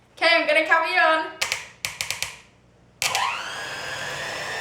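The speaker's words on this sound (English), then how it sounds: "You want to make sure you have it on quite a slow whisk to start off with, because you don't want your ingredients flying everywhere" An electric whisk starts up in chocolate loaf cake batter and settles into a steady, high mechanical whir on slow speed, after a run of short taps and clunks; a voice speaks just before.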